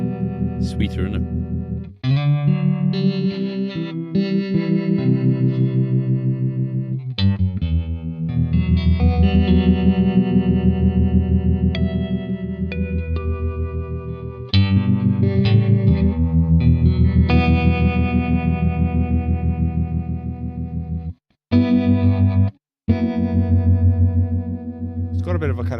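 Electric guitar through a Fender tremolo pedal set to harmonic mode with bias, played as sustained chords and notes with a warbling, flanger-like pulsing throughout, loud and close, with two brief pauses near the end.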